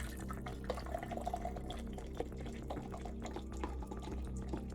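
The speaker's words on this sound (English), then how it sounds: "Enjoy tea pouring sounds." Tea being poured in a quiet room, a faint, soft trickling with small drips and splashes against a low steady background hum.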